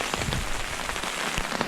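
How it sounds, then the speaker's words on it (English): Heavy rain pours steadily onto a wilderness camp in the Yukon mountains, a dense patter of drops striking surfaces close by, continuous and even, with no voices. "it's pouring rain"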